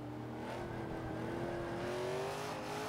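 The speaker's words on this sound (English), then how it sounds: "It's a good sounding car too. I like that V8 kind of sound to it." A Nissan Silvia Spec R engine in the racing game Forza 5 holds a steady, fairly loud rev that climbs slowly in pitch as the car accelerates, with no voice over it.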